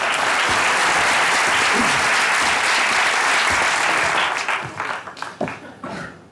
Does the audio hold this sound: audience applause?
yes